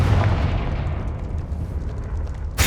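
A Confringo fire-blast spell explodes in the video game Hogwarts Legacy, a loud, dense blast with rumbling low-end that sustains throughout, ending in a sharp burst right at the close.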